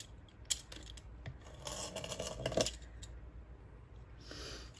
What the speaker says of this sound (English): just draw a line and cut it with my scissors